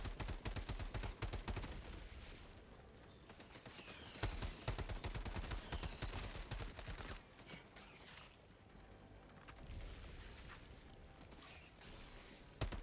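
Rapid gunfire rattles in repeated bursts until the magazine runs dry, with mechanical clacks and creaks between the volleys and a final sharp shot at the end.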